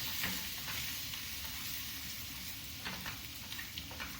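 Garlic sizzles and fries steadily in hot oil in a pan, a continuous close hiss with occasional crackles and a few soft stirring scrapes near the end, with no voices.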